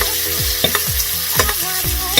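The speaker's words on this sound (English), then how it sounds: "I'm going to add in some butter and I'm going to baste the scallops" Scallops sizzle in a pan as butter is spooned over them for basting, giving a loud, continuous fry with repeated scraping strokes and spoon clinks, and no talking.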